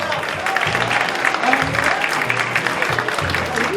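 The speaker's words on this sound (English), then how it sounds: "Give them a round of applause." Applause for the models at a charity executives and celebrities fashion show rolls on steadily from a large audience, with scattered voices and cheers woven through the clapping.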